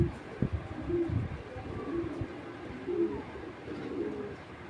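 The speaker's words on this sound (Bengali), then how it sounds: "শুরুতে একটা কানিটাল কবুতর দেখাচ্ছি" A pigeon coos close by in soft, low, repeated calls spaced about a second apart, over faint background noise.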